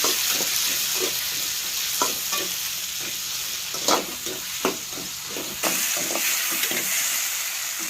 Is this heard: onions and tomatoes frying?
yes